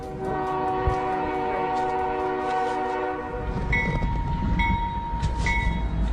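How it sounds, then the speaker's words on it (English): An Amtrak train out of Seattle pulls into Eugene, Oregon, its horn sounding long and loud, then giving way to rumbling wheels and short repeated horn blasts, all close and with no voices. "KOIN TV catching the sound as the train arrived in Eugene earlier"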